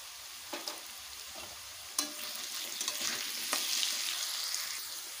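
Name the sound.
frying paneer with salt and turmeric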